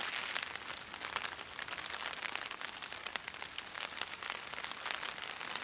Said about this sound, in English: the rain not letting up, as you can hear. It's still going on.